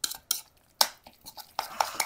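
Salad tossed in a bowl with utensils: a handful of sharp clinks and scrapes in uneven bursts, close and fairly quiet, with soft gaps between strokes.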